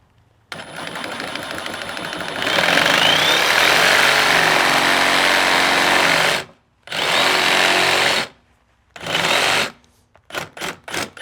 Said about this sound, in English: I would not normally cut a shelf in with a Sawzall, but Sawzall is what I have, so that's what we're using.